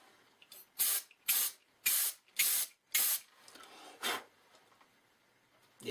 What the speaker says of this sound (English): and give it a quick spray